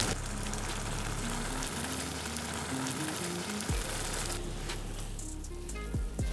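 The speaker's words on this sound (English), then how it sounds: "I already have here boiled fusilli pasta, so this goes into the pan" Boiled fusilli pasta tipped into a hot pan for an Italian pasta bake, giving a steady close sizzle and frying hiss with a few soft scraping stirs near the end.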